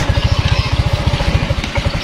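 A Yamaha Mio M3 125 scooter with a battery that keeps draining runs after a kick start, its engine chugging in a close, loud, rapid, even pulse that sounds weak and close to stalling.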